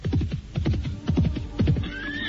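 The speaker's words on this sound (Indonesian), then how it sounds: "Prabu Jayanegara sedang berkuda ditemani Turangga, abdinya yang setia" A horse in a radio drama neighs and whinnies repeatedly, with hoofbeats clip-clopping beneath the calls, loud and close with no voices.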